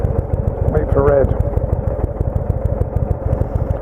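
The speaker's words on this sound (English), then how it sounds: "here in America, I have a American motorcycle" An American motorcycle idles at a red light, a close, steady low-pitched pulsing thump under a voice, with a brief rev swell near the start.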